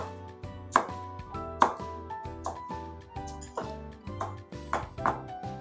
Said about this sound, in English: give a very rough chop like this